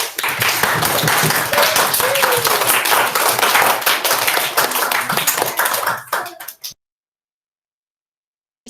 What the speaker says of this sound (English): Let's give them a clap then.